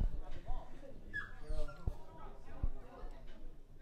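A dog barks and whimpers in short bursts beside a varsity high school soccer game against Hopkins, sharing the air with crowd chatter and commentary voices throughout.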